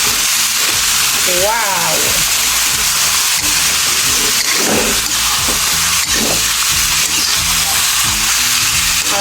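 Squid sizzles loudly in butter in a pan for adobong pusit, a steady, crackling hiss with stirring clatter throughout and a brief excited voice near the start.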